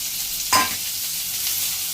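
Onion frying in a pan with whole spices (cumin, cardamom, cloves, cinnamon, bay leaf) for a prawn and potato curry: a steady, bright hiss with one louder sizzling burst near the start, then a continuous even fry.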